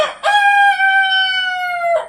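A rooster crows once, loud and close, a long sustained cock-a-doodle-doo that trails off at the end.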